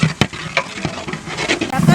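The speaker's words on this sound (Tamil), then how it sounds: "இப்போ இந்த கரம் மசாலா கரம் மசாலாவும் போடுறோம், எண்ணெயில் போட்டு வதக்கி போடுறோம்" Garam masala spices sizzle in hot oil for mutton biryani, with sharp crackles and the scrape of stirring, busy and close, with no one talking.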